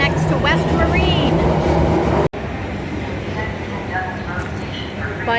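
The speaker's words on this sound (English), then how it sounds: "I am going to take the southbound train from downtown Miami to Coconut Grove" A southbound Miami Metrorail train running from Brickell station rumbles and clatters steadily close by, with a brief break, squeals and scattered voices around it.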